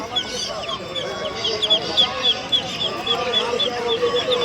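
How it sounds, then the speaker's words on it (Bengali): Many chickens cluck and chirp together in a busy chorus at a market in Naihati, with quails and ducklings peeping, while people talk in the background. "এখানে কোয়েল মুরগি হ্যাঁ বিভিন্ন টাইপের মুরগি হাঁস এখানে রয়েছে"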